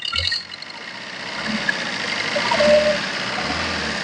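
A steady low engine idle rumbles close by, with a faint rattle and some background noise layered over it.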